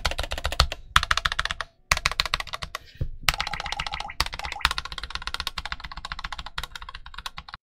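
Rapid typing on an Ajazz AKL680 low-profile 65% mechanical keyboard, close and clear, with irregular bursts of crisp clacks, a few short pauses and some heavier thocks in between.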